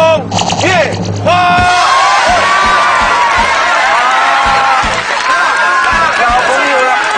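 A television variety-show studio audience in Hsinchu cheers and claps to welcome a guest, a loud sustained crowd roar with whoops and shouts, while a host's voice carries over it.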